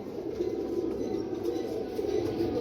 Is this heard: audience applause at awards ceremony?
no